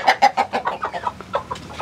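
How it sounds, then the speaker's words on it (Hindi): Hobby fowl kept on a farm cluck in a quick run of close, loud, rhythmic clucks and squawks, roughly a dozen calls in under two seconds. "कुछ बर्ड्स भी हैं इसके अंदर जी, ये शौक के लिए पाले हुए हैं"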